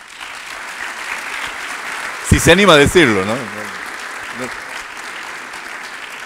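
Applause from an audience at an agricultural fair, a steady bed of clapping throughout while someone speaks loudly over it partway through.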